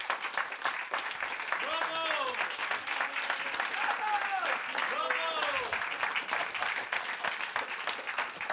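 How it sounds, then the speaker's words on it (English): An audience applauds performing artists at an evening show, sustained and fairly even, with voices calling out and chatter heard through the clapping. "everybody can give them a big round of applause and thank them for taking part tonight"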